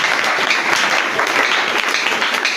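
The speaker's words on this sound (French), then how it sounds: "Est-ce qu'on peut acclamer une fois de plus?" A church congregation applauds during a French-language sermon, a dense, steady burst of clapping from many hands, loud and close, with faint voices mixed in.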